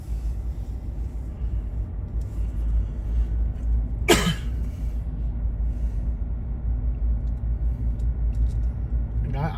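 A car passes along a night street in Macon, Georgia, its steady low engine and road rumble continuing throughout, with a sharp, brief noise cutting through near the middle.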